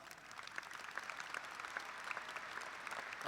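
Audience applause at a university commencement ceremony, a sustained patter of clapping from a large crowd in a big hall, moderately distant and steady from start to finish.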